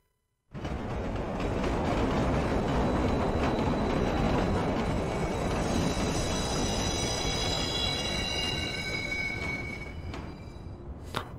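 A train pulls in within the PS2 game The Warriors, a loud, rumbling mechanical roar that swells up after a brief silence, holds steady with high metallic tones and squeals above, then eases off near the end.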